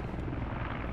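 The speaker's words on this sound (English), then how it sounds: "Enemy, helicopter. Enemy landing." Enemy helicopter in the Squad video game, a brief burst of low, throbbing rotor chop mixed with engine drone, loud and near, no talk over it.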